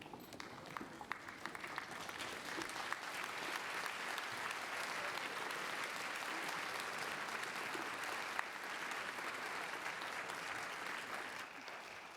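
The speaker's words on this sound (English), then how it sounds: "applause." A graduation ceremony audience applauds steadily and evenly for the full stretch, a dense, sustained wash of many hands clapping at moderate distance without a break.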